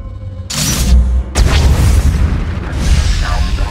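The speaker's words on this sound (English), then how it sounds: "Cannons incinerating one of your capital ships." Cannon fire from a capital ship's guns booms in the video game Star Wars: The Old Republic, with two heavy, close blasts in quick succession followed by a rumbling explosive tail.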